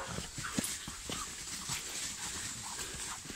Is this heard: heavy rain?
no